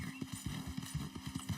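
Horse hooves clip-clop at a steady walking rhythm in the Red Dead Redemption 2 video game, a dozen or so close, dull thuds under a low hum, with a faint voice briefly present.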